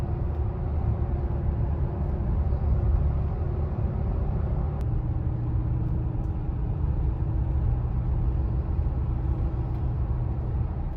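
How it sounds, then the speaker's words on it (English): Cabin road noise inside a Toyota Tacoma TRD Off-Road on 285 Nitto Ridge Grappler tires, a steady low rumble and hum that stays even throughout, with no talk. "So really no road noise for these."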